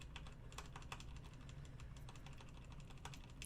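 Typing on a Corsair keyboard with standard keycaps and O-ring dampeners gives a steady, quick patter of soft, muted keystrokes, faint and evenly paced with no talking.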